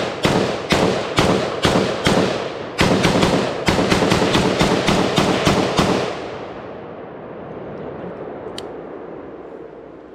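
An LMT Estonian R20 Rahe rifle fires its first shots, a quick string of about fifteen loud, sharp cracks in uneven groups, close by, followed by a fading outdoor echo and quiet.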